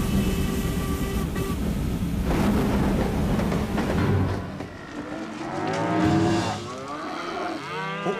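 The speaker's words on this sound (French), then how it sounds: "Je dois filmer cette vache sauvage!" A wild cow in a French Daltons cartoon moos in long drawn-out bellows over a rumbling background resembling a passing train, loud and close.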